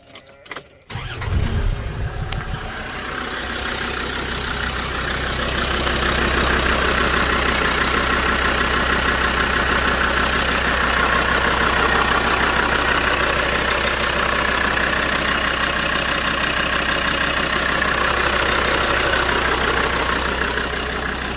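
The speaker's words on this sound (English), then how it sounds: "I'll just start it up so you can hear it running" Diesel engine of a Land Rover Defender 110 overland expedition camper starts with a brief crank and catch, then settles into a steady, loud, continuous idle that runs unbroken close by.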